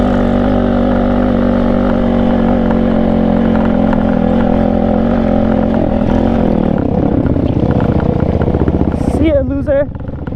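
A Tao Tao 140cc dirt pit bike engine runs loud and close with a steady droning hum that shifts and wavers in pitch toward the end, with voices mixed in.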